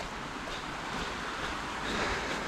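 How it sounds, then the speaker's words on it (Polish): Constant rushing water from a fast-flowing, rain-swollen stream in Krynica-Zdrój, a broad steady roar with no pauses, heard close and fairly loud. "O ile słyszę, to strumień dalej jest rwący"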